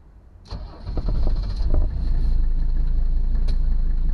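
A 1982 Mercedes 300D diesel cranks and catches after a short whir, then settles into a steady, close idle with a few clicks early on and no voices.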